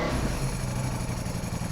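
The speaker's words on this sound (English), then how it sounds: "Can you hear that dry clutch now?" Ducati Panigale V4 Tricolore with a dry clutch idling nearby, a steady low mechanical rattle with engine rumble running continuously through the short stretch.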